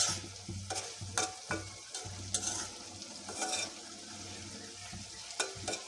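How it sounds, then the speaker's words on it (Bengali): Chickpeas sauté with onion and green chilli, giving a gentle steady sizzle broken by repeated spatula scrapes and taps against the pan. "বিকেলের নাস্তার জন্য একটু ছোলা ভোনা করতে"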